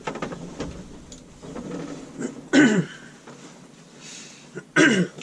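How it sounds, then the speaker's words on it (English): Two sharp, close coughs from a person indoors, spaced a couple of seconds apart, with quiet shuffling and handling noises in between. "I've got a bit of a cough."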